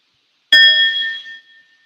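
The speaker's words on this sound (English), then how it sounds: "And I also have a bell" A single bell struck once, ringing out with a bright, sustained metallic tone that fades over about a second, heard alone in a quiet room.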